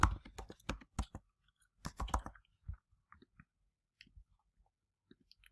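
Quick bursts of keystrokes on a computer keyboard, close and fairly quiet, a dense cluster at first and then sparse, scattered clicks with pauses between, with no talk.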